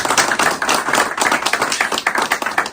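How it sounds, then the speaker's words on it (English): A small group at a fishing report gathering claps briefly together, close and fairly crisp, the individual hand slaps uneven and overlapping. "We're just going to give him a round of applause for everything."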